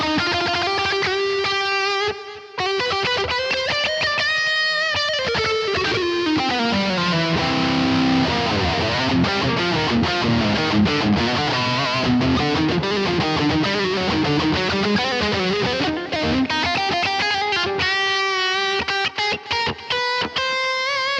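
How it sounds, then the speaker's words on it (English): An electric guitar plays a sustained lead line through a Blackstar BEAM amp with reverb added, with bending, ringing distorted notes that carry on continuously for about twenty seconds and no voice over them. "And I think we have a pretty good lead tone now."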